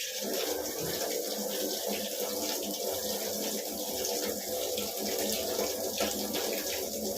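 Tap water runs steadily as plant roots are rinsed under the faucet, a constant close splashing hiss with no speech.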